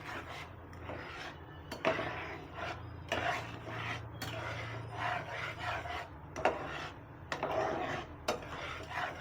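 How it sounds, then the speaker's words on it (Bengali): Milk and jaggery are stirred gently in a pan over medium heat, making repeated close scraping and rasping strokes against the pan with no talking. "এইভাবে গুড়টা দিয়ে হালকা হালকাভাবে নাড়তে হবে আপনাদের"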